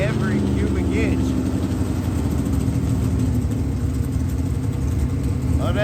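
A Mountain Motor Pro Stock drag car with a big-cubic-inch Cosby engine rumbles heavily and continuously near the burnout box at an IHRA event, loud and steady, while an announcer talks over it.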